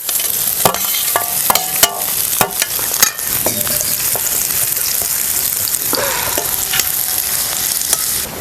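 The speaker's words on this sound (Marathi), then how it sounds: "कढई ठेवलेल्या कढईमध्ये तेल घातलंय आता कांदा घालायचा" Chopped onion frying in hot oil in a kadai for egg bhurji gives a steady, close sizzle, broken by repeated sharp scrapes and clacks of a spoon stirring against the pan.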